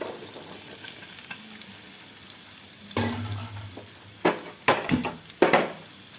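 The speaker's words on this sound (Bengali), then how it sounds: "এবার দিয়ে দেবো আমি পেঁয়াজ কুচি।" Chopped onions drop into a frying pan of hot oil with whole coriander, a quiet sizzle swelling into several loud bursts of crackling and spatula knocks.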